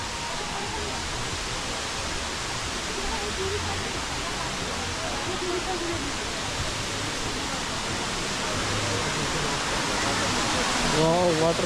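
Elephant Falls in Shillong, Meghalaya roars as a steady, loud wash of falling water, close and unbroken for the whole stretch, growing slightly louder toward the end.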